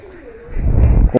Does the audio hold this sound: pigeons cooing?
yes